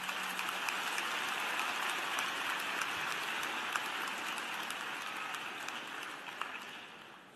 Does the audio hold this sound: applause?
yes